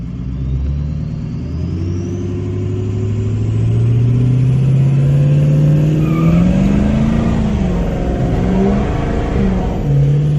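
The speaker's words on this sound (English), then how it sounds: "Well, she's just doing a burnout." A 600 HP Ford Excursion truck revs hard through a tire-smoking burnout, its loud, steady engine roar rising and holding close and continuous without talk.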